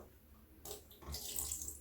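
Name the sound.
pouring dye liquid into a bucket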